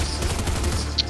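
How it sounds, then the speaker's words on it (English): Enemy gunfire in the video game Fortnite crackles as a rapid burst of shots, loud and continuous through the brief moment. "Oh, they're shooting me."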